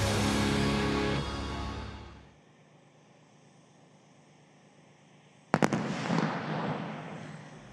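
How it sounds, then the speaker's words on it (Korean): Heavy booms from a joint military live-fire artillery drill open loud and sustained, fade into near silence, then a sharp blast erupts and rumbles on, each impact rolling like distant thunder. "적 포병 공격이 시작됐습니다."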